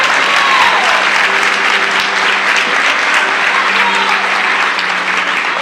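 Sustained applause from a church congregation during a worship service, loud and dense throughout with steady hand-clapping filling the room and a few faint sustained tones beneath.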